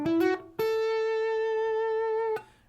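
Slide guitar playing the opening notes of a riff: a short pluck, then a clear sustained slid note held for nearly two seconds, played alone up close.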